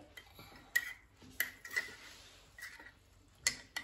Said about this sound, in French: Toi, tu vas mélanger dans ta tasse.